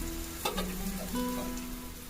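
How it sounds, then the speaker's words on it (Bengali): Spice masala with turmeric frying in a pan before eggs go in for egg bhurji. A faint, steady sizzle runs throughout, with a light stirring clink early on. "মশলাটা ভালো করে ভাজা ভাজা হয়ে গেছে"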